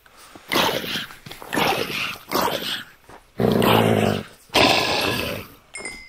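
A summoned dog in the Minecraft video game growls in several short bursts, loud and close, with no talking over it.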